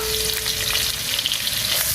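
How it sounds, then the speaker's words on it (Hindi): Onion frying in hot oil in a kadai, a dense steady sizzle with light stirring, close and loud with no talking. "ये प्याज जाएगा इसके अंदर"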